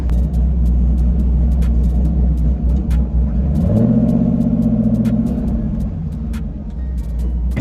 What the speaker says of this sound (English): I love the way that this thing lopes and idles with that camshaft